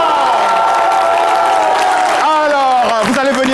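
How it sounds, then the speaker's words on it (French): Audience at an event at the Palais de la Culture applauding and cheering for a group of women, a steady crowd roar with claps and whoops, with a host's voice rising over it. "Est-ce qu'on peut applaudir pour les femmes?"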